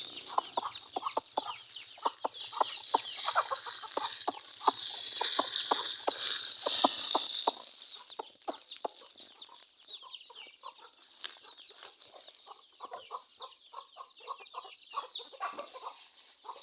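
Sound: chickens clucking while being fed

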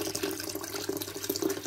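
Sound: water pump running, home automation switch on

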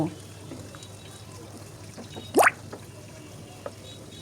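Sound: pouring water into spice masala in pan

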